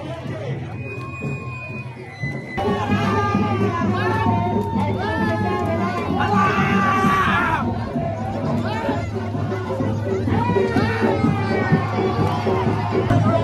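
A lively village crowd shouts and cheers close by at the Bahiridev yatra festival in Vadhav, Maharashtra, many voices overlapping in a continuous festive hubbub.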